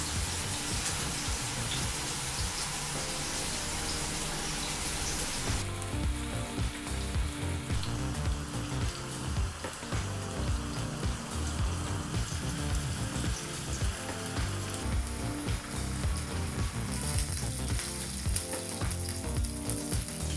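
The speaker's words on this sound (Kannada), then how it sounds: "ಈಗ ಇಲ್ಲಿ ಒಂದು ಕಡೆ ಫಿಶನ್ನು 5-6 ನಿಮಿಷ ಫ್ರೈ ಮಾಡ್ಕೊಂಡಾಯಿತು" Fish fries on a tawa over low to medium flame, restaurant style, with a loud, continuous, close sizzle and crackle that holds steady throughout without any voices.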